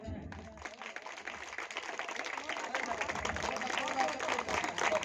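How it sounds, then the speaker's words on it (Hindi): A crowd at an Ambedkar Jayanti garland ceremony claps, a rough, uneven patter that builds from quiet to fuller applause, with voices mixed in beneath it. "जोरदार ताली बजाएं।"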